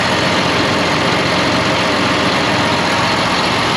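A farm tractor's engine idles steadily and loud, a continuous low rumble with even texture that holds unchanged for the whole stretch, with no talking over it.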